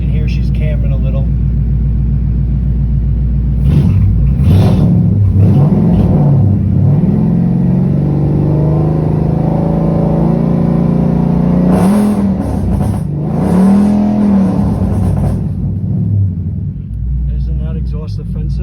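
Cammed V8 of a 2012 Mustang GT revving in bursts with a lumpy, rough idle between them, loud and close, as people talk throughout.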